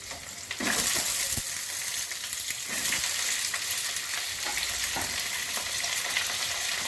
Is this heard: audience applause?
no